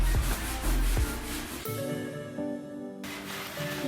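Wooden table parts sanded by hand in a home DIY project, with a few rough rubbing strokes near the start before the scraping grows quieter and thins out.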